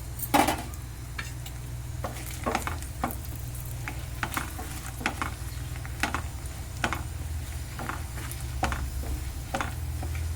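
Chili seeds frying in a pan, a low continuous sizzle with scattered ticks and scraping stir strokes, close and moderately loud, no talking.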